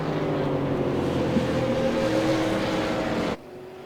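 A late model race car engine in a sim racing video game at a Lucas Oil Raceway series event, a loud, steady, droning roar held at high revs that cuts off abruptly near the end, with no talking.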